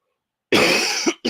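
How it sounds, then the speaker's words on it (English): A single hard, close cough bursts out after a moment of silence and is followed by a short second catch of breath, loud and dry at the mic with no talking. "I had to cough there."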